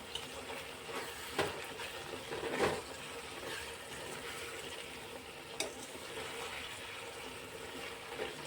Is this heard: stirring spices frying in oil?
yes